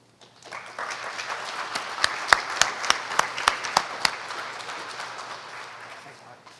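Audience at a TSX market open event at the NSCC Waterfront Campus breaks into steady applause welcoming a speaker, with sharp nearby claps standing out in the middle before the clapping fades.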